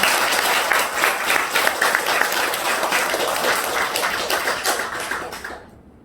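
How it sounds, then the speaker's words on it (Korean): Audience applause at a Won Buddhist dharma title conferral ceremony, a dense, steady roll of many hands clapping that holds strong for several seconds, then thins and fades out at the end. "오늘 축하하는 마음에 다시 한번 박수를 힘차게 치겠습니다"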